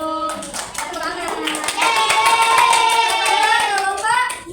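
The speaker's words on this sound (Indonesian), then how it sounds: "Tepuk tangan." An audience of classmates in a school classroom clap for a group, with loud sung or chanted voices over the rhythmic hand claps.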